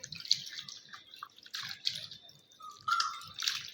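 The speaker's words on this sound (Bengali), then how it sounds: "এই লাউ পাতাগুলো আমি ভালো করে ধুয়ে নিচ্ছি।" Bottle gourd leaves being rinsed by hand for a Bengali village-style dish, with a steady patter of dripping and splashing water, bursts of sloshing and a brief tap-like gush, close and moderately quiet.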